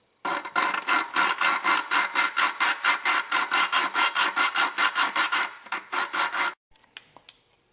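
A suction cup lapping tool is twisted back and forth on an engine valve during a V-twin head rebuild, making a close, even series of about two dozen gritty rubbing strokes that stop abruptly.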